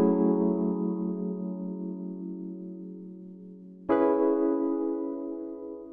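Vintage Rhodes electric piano chords ring out alone: one sustained chord slowly decays for nearly four seconds before a second chord is struck and fades away.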